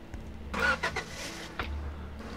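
A big truck's engine in Roblox Lumber Tycoon 2 starts up and revs in a couple of loud bursts, then settles into a low steady rumble, with no talking.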